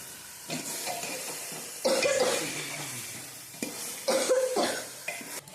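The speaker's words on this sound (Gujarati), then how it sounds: "આ બધી શાક આપણે સુધાર્યું છે ને એ અંદર હવે આપણે નાખી દઈશું. નાખશું ઊંચું નીચું કરી નાખીને સરસ મિક્સ થઈ જાય." Chopped mixed winter vegetables, including tomatoes, tipped into a pan for a Gujarati mixed sabji and tossed, giving two loud bursts of rustling, clattering stirring with faint sizzle between them, close by.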